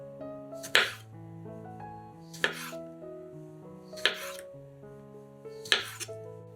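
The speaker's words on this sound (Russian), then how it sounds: "150 грамм помидоров черри разрезаем пополам." A knife halves cherry tomatoes on a cutting board, four sharp, evenly spaced chops over soft background music.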